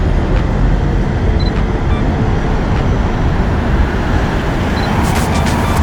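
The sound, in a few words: London buses passing in both directions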